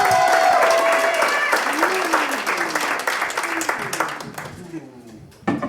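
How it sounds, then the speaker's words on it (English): Loud clapping and cheering from a comedy show audience greets a comedian, sustained then thinning out, with a host's voice carrying over it and a sharp burst at the end. "Keep that applause going, ladies and gentlemen"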